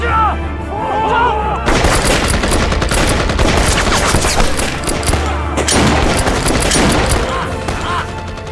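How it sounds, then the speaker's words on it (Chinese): Heavy bursts of rifle and machine-gun fire in a battle scene from an anti-Japanese war film, loud and dense, with rapid overlapping shots after a short quieter opening and a brief lull midway. "谁他妈的开枪了？"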